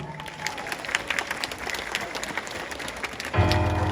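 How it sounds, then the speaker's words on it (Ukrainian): A crowd at a ballroom dance concert in a city palace of culture in Rivne, Ukraine applauds in a dense, steady wash. Music starts abruptly near the end and cuts in over the clapping. "ваші оплески"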